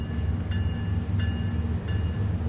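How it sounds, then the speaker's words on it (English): A loud diesel locomotive hauling single-stack freight in the Train Sim World 3 video game, a steady low engine drone with three evenly spaced brief metallic accents. "this locomotive is loud too"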